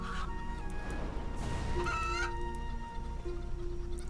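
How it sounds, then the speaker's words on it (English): Chickens cluck in the video game RuneScape 3, with several short clucks over a steady bed of game sound and tones, fairly close and continuous throughout. "It's only one person attacking all the chickens"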